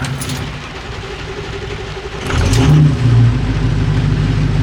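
Ford 6.0 Powerstroke diesel truck engine on a cold start, a low rumble that surges louder midway as it catches and settles into a rough, heavy idle, close and alone.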